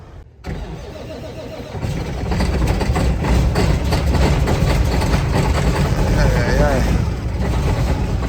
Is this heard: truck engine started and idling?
yes